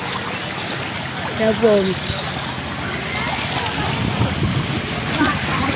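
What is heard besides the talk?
fast-flowing tidal flood water current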